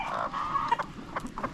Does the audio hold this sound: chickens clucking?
yes